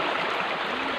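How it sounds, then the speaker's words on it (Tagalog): Strong river current at a swimming spot in Mangatarem, a steady broadband rush of flowing water, close and continuous with no voices. "So ang lakas talaga ng current ng tubig."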